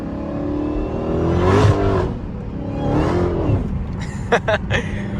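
A loud Dodge Hellcat revs and accelerates hard on wet roads, its engine rising in pitch in two strong pulls, followed by a few sharp pops and crackles from the exhaust.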